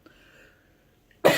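A short, sharp cough bursts out loudly near the end after a stretch of near silence, from someone smoking.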